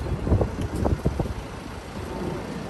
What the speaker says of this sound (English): Windy, windy, windy.